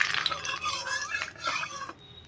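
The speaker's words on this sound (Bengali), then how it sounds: "তেলটা গরম হয়ে গেছে, তেলটাকে কড়াইতে ছড়িয়ে নিচ্ছি" Hot oil swirled and spread around a kadai before frying duck eggs, a steady scraping, stirring rustle with faint metallic contact, close and moderately loud, fading near the end.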